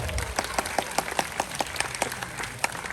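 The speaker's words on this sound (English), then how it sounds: "Let's give a round of applause to Midnight, everybody" An audience at a night safari bird show applauds the owl-like flyer Midnight after its flight, with a scattered, evenly paced run of claps standing out over a low murmuring outdoor background.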